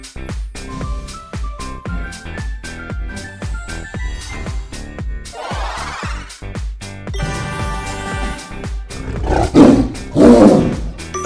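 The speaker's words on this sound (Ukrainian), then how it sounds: "Це тигр." A tiger roars in several loud, rough bursts over a busy, rhythmic musical background, with the strongest roars near the end.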